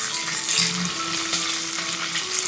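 Green chillies and finely chopped garlic sizzle steadily in a hot oiled pan, a continuous frying hiss with faint stirring scrapes, close and moderately loud with no talk.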